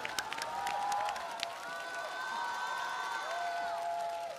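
Audience applause and cheering after a band performance on a TV music show stage, a steady wash of claps and whoops running throughout, while sustained tonal music or voices ring over the crowd.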